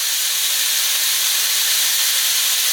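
Andouille sausage sizzles steadily in a hot pan, a constant close hiss and crackle of browning with no talking.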